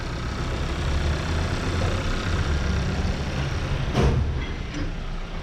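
A 2014 Kia Forte with a cylinder 1 misfire fault idles steadily, a low, even engine hum heard alone with a brief sharp click near the end.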